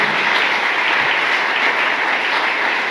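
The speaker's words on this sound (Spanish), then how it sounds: "El aplauso para el ingeniero Ernesto Rivera Fermín" An audience applauds an engineer at a public event on the Treaties of Córdoba, a steady dense wash of clapping that holds at an even level throughout, with no talk over it.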